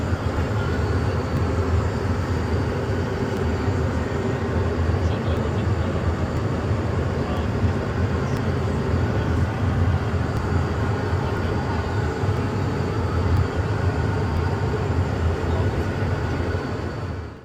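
Steady, loud cabin roar of an Allegiant Airlines jet in flight fills the cramped onboard bathroom, a constant low drone with a person speaking over it.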